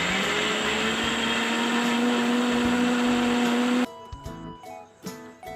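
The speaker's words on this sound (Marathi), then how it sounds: "हे दाणे आपल्याला मिक्सरमध्ये फिरवून बारीक करायचे आहे।" A kitchen mixer grinder whirs steadily as it grinds corn kernels, a loud continuous motor whine lasting nearly four seconds before cutting off, followed by a few soft clinks and knocks.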